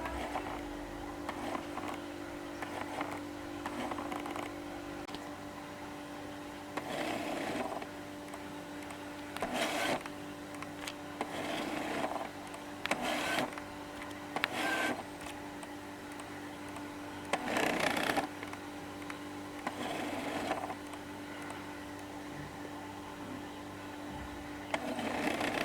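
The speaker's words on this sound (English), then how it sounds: "Next I will make the lens autofocus from close to infinity to better hear the focus" Autofocus motor of a Tamron 70-300mm f/4-5.6 Di VC USD lens on a Canon EF full-frame body racking from close focus to infinity, heard as short repeated whirring bursts over a steady low electronic hum, close and fairly quiet.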